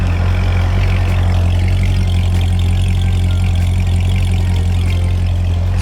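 A deep, steady idle from a 2008 Corvette Z06's 427 LS7 V8 through its center exhaust, a low throaty rumble running continuously and loud throughout with no talking.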